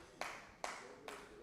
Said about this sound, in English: If only my VP is clapping, I am satisfied with that.